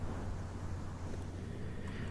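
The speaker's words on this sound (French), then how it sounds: "Le bruit de la bonnette fluffy est propice à un endroit en bord de mer." A fluffy microphone windscreen rubbed slowly, giving a steady low rumbling swish like distant ocean surf, close and continuous with no talking.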